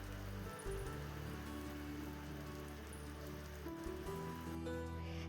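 Heavy rain pours steadily on a street near a shop, a dense continuous hiss of drops on surfaces with low rumbling underneath, loud and unbroken throughout, with no talking.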